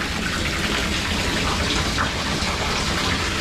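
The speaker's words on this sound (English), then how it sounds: "It looks like it's draining a lot faster than it's filling." Water rushes and drains quickly in a fish farm simulation game, a dense, steady hiss of flowing water filling the whole clip with no talking over it.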